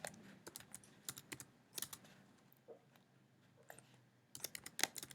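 Someone typing an SQL query on a computer keyboard, a quiet, close patter of uneven keystrokes in bursts with brief pauses between them.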